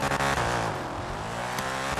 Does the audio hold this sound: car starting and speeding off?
yes